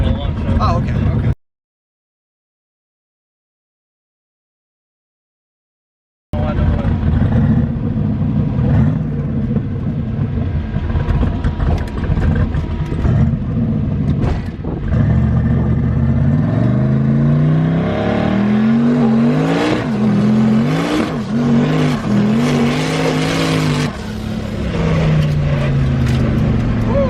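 Ford Mustang Foxbody with over 1000 hp, engine revving hard and bouncing on a two-step launch, loud and close with wavering pitch after a brief gap of silence, people talking over it.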